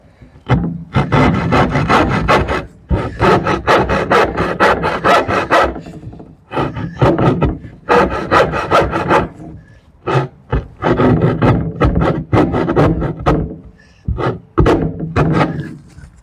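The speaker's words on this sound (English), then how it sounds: "So just going to get that up there with a handsaw." Handsaw cutting wood while building a workbench, loud rhythmic rasping strokes in long runs with brief pauses between sets, close and alone.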